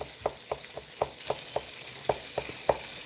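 Beef steaks sizzle on a grill with a steady hiss, broken by regular sharp pops and spits of grease roughly every quarter second, close and fairly loud with no talking.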